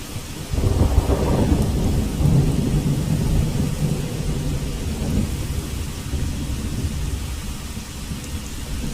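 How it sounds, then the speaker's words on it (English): A rain and thunder ambience played over twelve channels in a spatial audio demonstration, with a deep rumbling thunderclap rolling in over steady heavy rainfall and no voices. "we'll play our rain and thunder over 12 channels"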